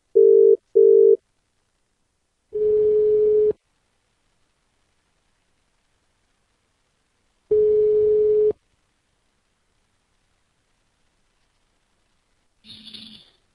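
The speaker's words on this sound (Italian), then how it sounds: "Io vorrei provare a chiamare Tona, vediamo se riusciamo ad avere anche un parere in più" Phone call being placed, with two short beeps followed by two long, evenly spaced ringing tones over silence and a brief faint sound at the end.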